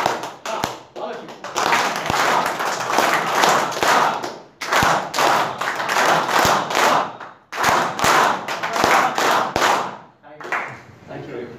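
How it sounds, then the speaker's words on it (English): A group claps hands in unison, following a leader in sharp, evenly spaced beats grouped into bursts, with loud voices chanting over the claps and brief pauses between the rounds. "One more clap, follow me like this."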